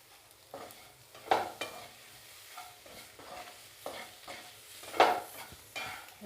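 Potato chunks and soya nuggets are sautéed and stirred in a spicy pan for a coconut milk curry, giving a soft sizzle broken by intermittent scraping stirs.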